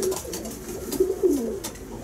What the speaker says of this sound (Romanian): Prezint cel de-al patrulea porumbel